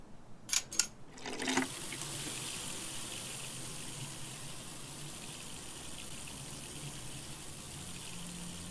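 Water gushing from an opened valve in a hidden-object adventure game, a few brief knocks and clicks first, then a steady, soft, continuous stream of flowing water.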